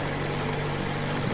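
A vehicle engine idles in the post-apocalyptic game Metro Exodus, a steady low droning rumble with a constant hum, close and continuous throughout with no voices over it.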